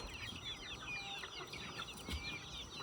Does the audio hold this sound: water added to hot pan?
no